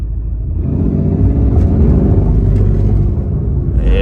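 A Mercedes-AMG GT R engine drones in a loud, steady low rumble while the car spins donuts, held near and continuous, with a faint tire or whoosh rising at the very end.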